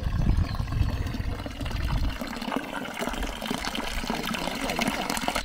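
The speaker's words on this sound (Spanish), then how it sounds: "¿El pilón del pueblo? Pues sería el pilón del pueblo." Water gushes steadily into the trough of a village fountain in a tiny Spanish hamlet, a continuous splashing pour heard close by with some faint background voices.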